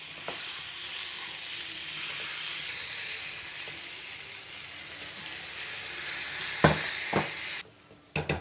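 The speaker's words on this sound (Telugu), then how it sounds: "చికెన్‌ని ఆయిల్‌లో ఒక 2-3 టేబుల్ స్పూన్స్ ఆఫ్ ఆయిల్‌లో మంచిగా ఫ్రై అయిన తర్వాత" Chicken frying in two to three tablespoons of oil on a low flame, a steady close sizzle that continues for several seconds, broken near the end by a few utensil knocks before it cuts out.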